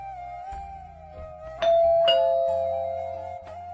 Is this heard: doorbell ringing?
yes